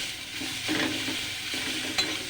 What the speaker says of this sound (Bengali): যে পেঁয়াজগুলো আমি এরম ভেজে, টমেটোগুলো এরমভাবে ভেজে নিয়েছি, আর একটু ভাজবো।